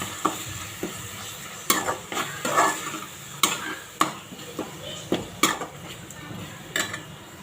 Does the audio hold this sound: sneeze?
no